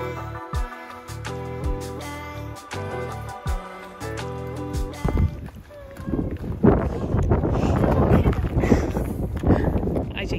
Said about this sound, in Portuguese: Ai, gente, o vento tá cruel